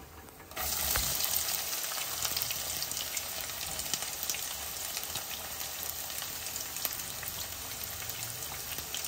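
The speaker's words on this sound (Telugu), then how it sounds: "ఇప్పుడు ఉల్లిపాయలు బాగా వేగనిద్దాం" Onions fry in a pot with whole spices such as star anise and stone flower, starting abruptly into a dense, steady sizzle with crackling pops that holds close and even throughout.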